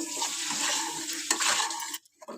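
Rice flour being roasted and stirred continuously in a pan for a bakery-style Indian sweet, a steady scraping rustle with a few sharper utensil knocks, close and fairly loud, cutting off abruptly near the end.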